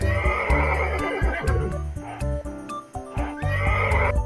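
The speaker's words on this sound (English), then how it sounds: "It's a horse." A horse neighs loudly in long, shaky whinnies, repeated several times over about four seconds and heard close and clear with no talk over it.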